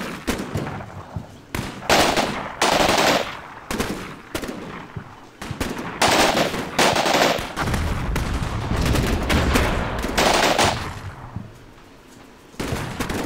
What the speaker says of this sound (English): Rifle grenades, probably.